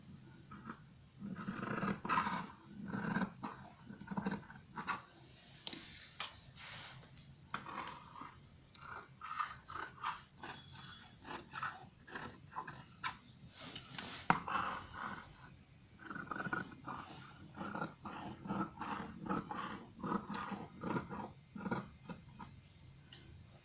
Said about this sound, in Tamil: இப்போ பேக் நெக் வெட்டிட்டேன்.